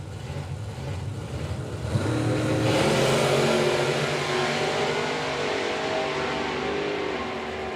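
A supercharged big block Malibu makes a drag racing run, its engine roaring loud and close, swelling sharply around the two-second mark and holding a steady, heavy drone until it eases slightly at the end.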